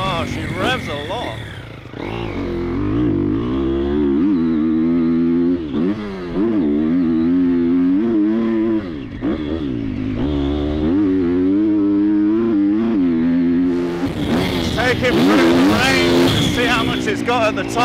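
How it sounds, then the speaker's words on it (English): A Triumph TF250-X motocross bike revs hard on a track, its engine climbing and dropping through repeated high-pitched surges close to the rider, with wind buffeting and a burst of noise near the end. "Oh, she revs a lot."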